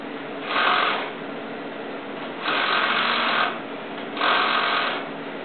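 A sewing machine stitches mesh leggings in three short bursts of steady whirring, separated by quiet pauses, heard close and fairly soft.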